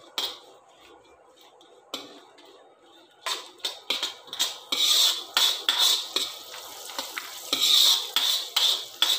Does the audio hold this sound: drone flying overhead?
no